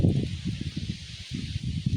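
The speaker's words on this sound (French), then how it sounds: "Ah le vent il commence à se lever, c'est l'apocalypse." Wind picks up ahead of a supercell thunderstorm, gusting in uneven bursts of low buffeting and rustling over a constant airy hiss.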